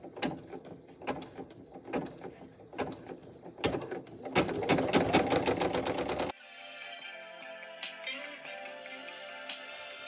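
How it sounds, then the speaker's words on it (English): An embroidery machine stitches a tack-down seam on clear vinyl, its needle clattering rapidly and mechanically, building to a dense whirring run before shifting to a quieter, steadier mechanical hum. "it is going to stitch the tack down stitch for the clear vinyl."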